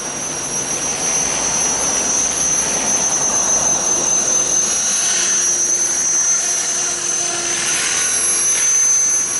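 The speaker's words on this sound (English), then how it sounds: "Yeah, the Walkera. It's not a bad heli." A Walkera V450D03 RC helicopter flies close by with a steady high-pitched rotor whine and motor hum, loud and continuous throughout with no talking.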